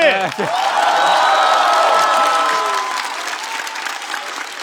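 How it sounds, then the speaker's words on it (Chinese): Loud studio audience applause fills a roast comedy show stage, dense clapping mixed with cheers and whoops, a voice or two calling out over it before it gradually thins. "再次把掌声送给小齐"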